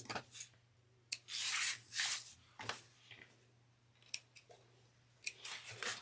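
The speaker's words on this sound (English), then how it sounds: "I'm just going to grab my snips." Sewing snips clip loose threads on an Ava bag in a quiet room, with a few short sharp snipping bursts and soft rubbing of fabric in between.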